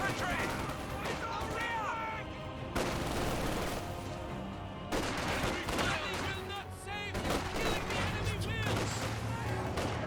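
Rifle gunfire in the video game Company of Heroes 2 crackles in dense, continuous volleys throughout, with a steady battle din underneath and a voice talking over parts of it.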